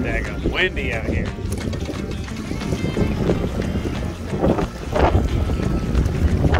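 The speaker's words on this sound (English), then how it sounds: "Windy out here." Strong wind buffets the microphone on a fishing boat out on open water, a loud steady rushing roar, with a voice speaking over it.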